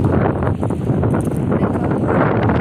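Loud gusting wind with rain buffeting the microphone, a dense roaring rumble with rustling, steady throughout.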